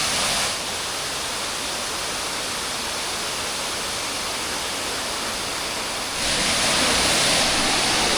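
A limestone waterfall roars as a steady, loud wash of broadband noise that swells further near the end, with no voices over it.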